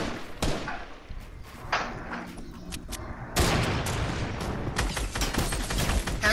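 Gunfire in Fortnite, several sharp separate shots cracking over a low background, then a denser, louder run of blasts in the second half, with no talk over it.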